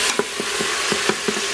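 Garlic frying in a home kitchen pan, a steady soft sizzle punctuated by several quick scraping stirs at an irregular rhythm, close and fairly loud.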